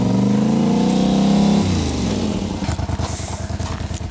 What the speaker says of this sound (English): I'm gonna run my 400 kilo ATV on top of it.